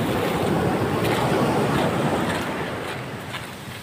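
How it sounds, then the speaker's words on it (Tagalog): Heavy surf roars continuously close by on a beach in San Felipe, Zambales, a dense rushing wash of breaking waves with wind, easing slightly toward the end. "Malakas ang alon."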